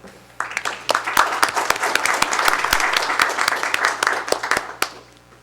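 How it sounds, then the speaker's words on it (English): A meeting audience breaks into applause, many hands clapping in a steady wash that swells, holds, then thins out to a few last claps, heard alone without talk. "let's give a round of applause to Cliff"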